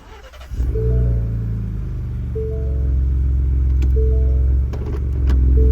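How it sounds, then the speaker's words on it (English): A 2021 Ford Bronco engine cranks and catches, then settles into a deep, steady idle rumble heard up close, with light clicks and small rev changes over a few seconds and no talk. "So I'll fire it up"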